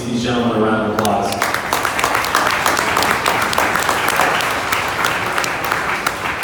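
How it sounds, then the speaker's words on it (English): An audience at an esports investing panel gives the gentlemen a round of applause; a voice speaks briefly at first, then dense, lively clapping swells and carries on steadily to the end. "Can I have everyone give these gentlemen a round of applause?"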